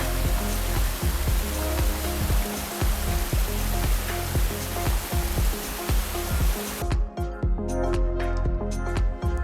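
Keld Falls, a waterfall by a reservoir and park, pours with a loud, dense, unbroken roar heard up close, the tone dulling slightly toward the end.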